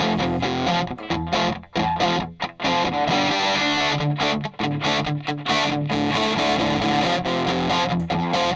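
A heavily distorted electric guitar blasts through an amplifier at very high volume, with dense sustained chords and a few brief choppy gaps between strums.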